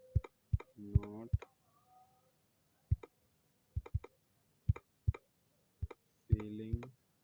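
Sparse, irregular keystroke clicks on a computer keyboard in a quiet room, with short stretches of a voice between them.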